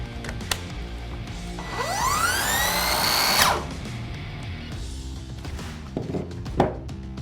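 A cordless compound mitre saw whines up to speed and runs loud for a couple of seconds, then its electronic blade brake stops the blade abruptly, followed by a few light knocks and clunks.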